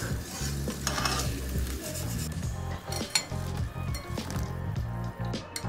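Gulab jamun fry in hot oil with a bubbly sizzle, punctuated by repeated clinks and scrapes of a utensil stirring and turning them in the pan, close and steady.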